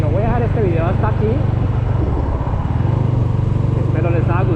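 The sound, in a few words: Dominar 400 UG 2.0 2020 motorcycle engine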